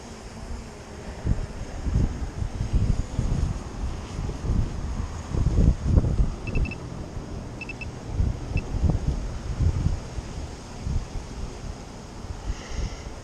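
Steady wind gusting and buffeting outdoors while a drone flies, a continuous low rumble of wind noise against the microphone with a few faint higher beeps.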